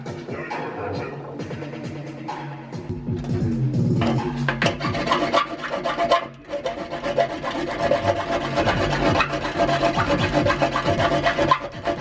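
A tool scores through the metal ring of a Lexus IS300 subframe bushing, a harsh rasping scrape in repeated strokes that grows louder and denser after a quieter start.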